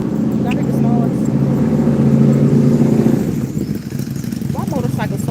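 Loud engines of small motorcycles rumble up close in a steady, heavy drone that eases after a few seconds, with a person talking over them.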